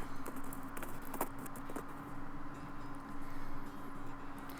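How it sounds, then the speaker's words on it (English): Rain in the West of Loathing video game, a soft steady patter with scattered light drips over a constant low hum, continuous and fairly quiet. "Okay, we made it rain."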